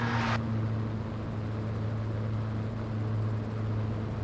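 A gyroplane's engine drones in flight with a steady, even hum and low tonal whine. A short hiss at the very start gives way to a constant engine note.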